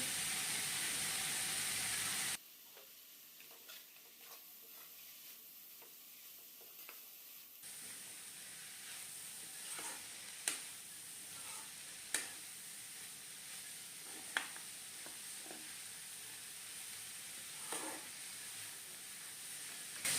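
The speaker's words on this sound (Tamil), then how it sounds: "மாசி பாருங்கள் வெந்துக்கிட்டு இருக்கு" Dried tuna (masi) cooks in a pan with a faint, steady sizzling hiss broken by occasional sharp ticks and pops, quiet and alone after a brief silent stretch.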